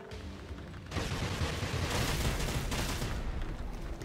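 Sustained machine gun fire from a Reaper robot in Generation Zero, a dense, continuous rattling roar that swells after a quieter opening and stays fairly even, heard at a moderate distance.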